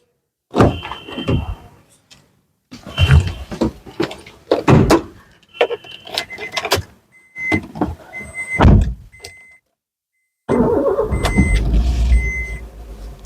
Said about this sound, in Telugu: నేను ఒకసారి ఇంజిన్ స్టార్ట్ చేస్తాను.